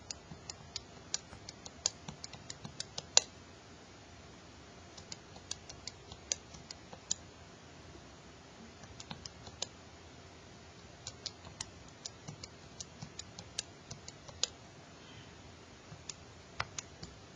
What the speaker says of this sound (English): We just need to type in our entries.